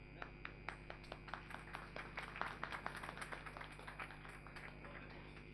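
A conference audience at a financial inclusion event in Gujarat gives faint, scattered applause, with individual claps ticking unevenly across a steady background hum.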